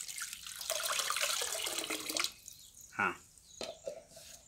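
Water being poured into a container holding paddy seeds for seed sorting, a continuous splashing pour for about two seconds, then a few separate drips and splashes, close by.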